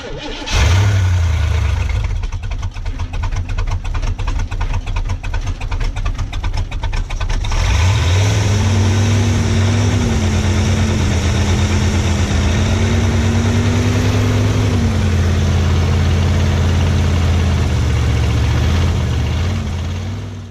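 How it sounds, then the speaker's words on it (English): A car fitted with a freshly rebuilt E4ME electronic Rochester Quadrajet carburetor briefly fires, cranks with rapid rhythmic churning, then starts and settles into a steady close idle with a slight rise in revs before easing back. "Seeing the car start and run for the first time in years was really exciting"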